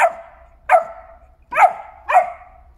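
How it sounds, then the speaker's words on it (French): A Bernese Mountain Dog puppy gives four sharp, close barks spaced roughly half a second to a second apart, each ending in a short whiny tail, with quiet between. "Faut pas avoir peur quand il aboie."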